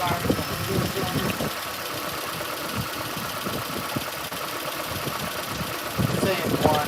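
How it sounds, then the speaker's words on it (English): A Toyota Prius engine idles with a cylinder 2 misfire, a steady mid-pitched running drone with faint uneven knocking close by, while people talk over it. "Misfire number 2 cylinder."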